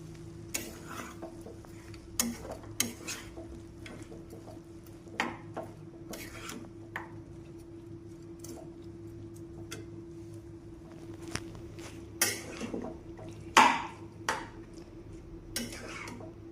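Pork dry fry with onions stirred in a pan, a spatula scraping and clinking against metal in scattered strokes over a low steady hum, with a faint sizzle and no talk.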